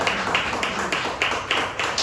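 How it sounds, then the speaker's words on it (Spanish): Rhythmic congregation clapping in steady beats, about three per second, during a church service in a reverberant room. "Denle ese aplauso al Señor."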